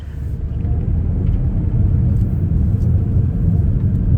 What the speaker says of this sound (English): that is the Ferrari we're test driving